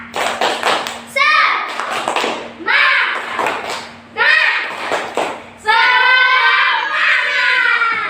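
Children in a classroom chant a rhythmic clapping cheer, bursts of hand claps and thumps alternating with shouted group syllables in repeated phrases, close and loud, building to a longer sustained cheer at the end.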